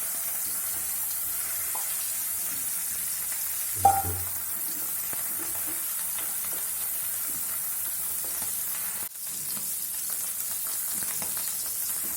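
Potato pieces frying in hot oil in a pan for dahi aloo methi, a steady soft sizzle running throughout with a brief clatter near the start and a small knock later.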